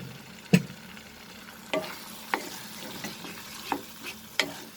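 Green peas sautéed in cooked masala for soya keema, with a soft, quiet sizzle broken by several sharp spatula scrapes and taps spaced about a second apart.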